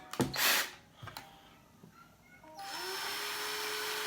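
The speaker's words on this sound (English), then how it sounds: "Then I'm going to get this section and drill the hole out here." A few knocks and handling noises, then a power drill spins up with a steady whine, drilling a hole in plastic continuously, close and fairly quiet.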